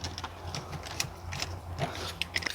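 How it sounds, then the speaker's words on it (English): An 8mm socket ratchet removes center console screws during dashboard removal on a BMW 650i, a quick series of soft close clicks from the pawl over a faint background hum, no talking. "And with an 8mm socket I can remove both screws."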